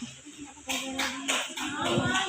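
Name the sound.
clapping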